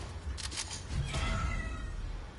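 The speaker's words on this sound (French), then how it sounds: "Ah, bonjour chat." A cat meows in the 2023 remake of the survival horror game Resident Evil 4, a single drawn-out, fairly close meow that rises over quiet game ambience.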